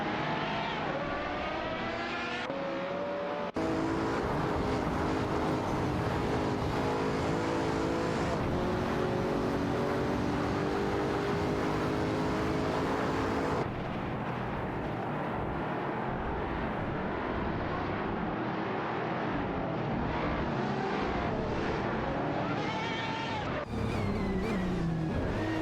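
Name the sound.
Pagani Huayra BC race cars in a racing video game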